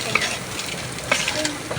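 Tomatoes and vegetables are stirred in a hot pan, a steady close sizzle of frying with a few scraping stirs of the spoon, no voices over it.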